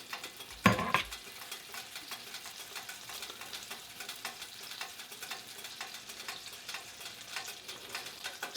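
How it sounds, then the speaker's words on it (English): Meatballs sizzle and crackle steadily in a frying pan, a continuous close hiss with small pops, opened by a brief clunk of the pan or utensil. "So while those are frying,"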